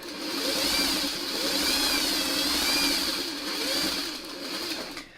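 A sewing machine runs a continuous stitching seam through fabric, its steady whirring motor staying close and fairly loud before it stops abruptly at the end.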